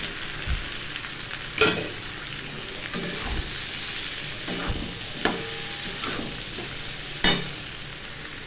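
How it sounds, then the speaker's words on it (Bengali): Prawns frying in a pan over a low gas flame, giving a steady soft sizzle with occasional clinks and stirring scrapes of a utensil, fairly quiet and without talk. "এবার দেবো চিংড়ি মাছগুলো।"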